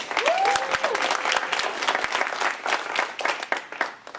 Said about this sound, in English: I just want to please give all those merch designs a round of applause.